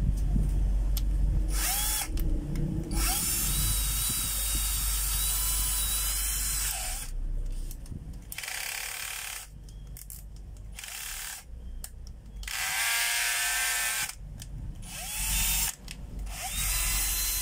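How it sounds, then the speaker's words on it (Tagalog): A Bosch cordless drill with a newly replaced chuck runs in steady, loud whirring bursts, spinning up and stopping several times with brief pauses between runs, heard close and alone. "Bali chuck lang po ang pinalitan natin sa Bosch na cordless na drill."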